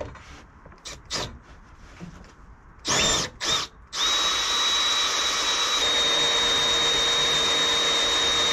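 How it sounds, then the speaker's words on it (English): Several short drill bursts start and stop, then a power drill runs continuously at a high, steady whine, loud and close, drilling a bolt hole in a fabricated trailer side. "go ahead and drill the top hole"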